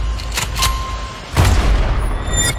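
Heavy booming blasts from a movie trailer, deep explosion-like hits at the start and another strong impact partway through, followed by a sustained rumbling low roar.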